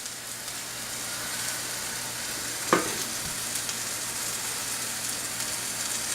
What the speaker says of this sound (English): So now we're going to put our patties in.